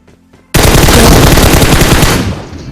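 M4 rifle fire in a video game: after a quiet half second, a loud, sustained automatic burst hammers on for about two seconds, then trails off.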